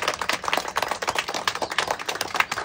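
A group claps for a crowd of creators in a quick, dense run of claps, close and moderately loud, that carries on steadily throughout.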